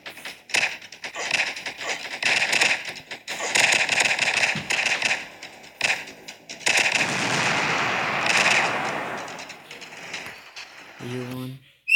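Automatic gun in a shooting video game fires in rapid, loud bursts of crackling shots, with short pauses between volleys and a final burst of rapid clicks at the end.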